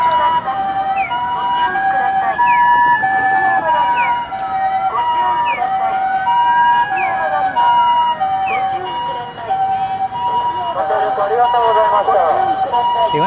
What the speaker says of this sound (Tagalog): meron man silang wangwang, hindi ka magpapanik sa tunog nila